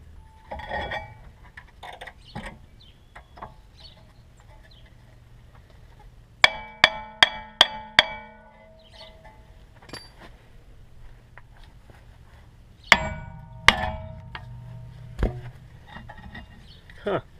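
Hammer blows on a seized wheel bearing of a Cadillac DeVille during a repair: a quick run of four sharp metallic strikes, then a second short cluster a few seconds later, close and loud against a quiet background.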